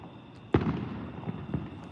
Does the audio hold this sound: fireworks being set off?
yes